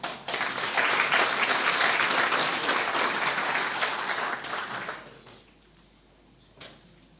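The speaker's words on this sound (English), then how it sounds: "our speaker deserves another round of applause" An audience at a society's annual general meeting applauds the speaker, a full steady round of clapping for about five seconds that tapers off into a quiet room with a faint later thump.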